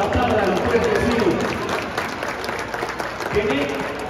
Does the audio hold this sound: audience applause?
yes